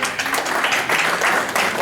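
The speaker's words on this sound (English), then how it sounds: "so if we want to give Diana a round of applause." Audience applause for Diana at a workshop session, a steady dense wash of many hands clapping throughout, moderately loud and fairly near.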